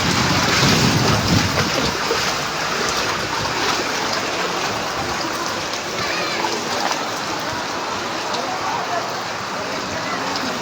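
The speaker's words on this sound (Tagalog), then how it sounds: "Abot bewang yung tubig sa kalsada." Waist-deep floodwater fills a street during Typhoon Carina, a constant broad rushing and sloshing of water close by, with a voice speaking over it near the start.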